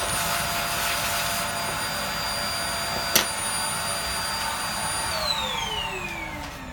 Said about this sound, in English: I have a vacuum cleaner,